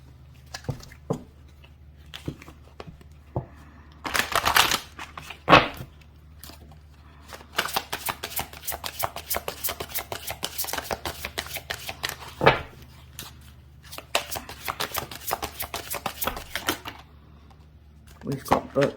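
Oracle cards from a Career and Money deck being shuffled for a tarot spread, with bursts of rapid riffling and flicking clicks interspersed with single card taps, close and crisp, alongside a speaking voice.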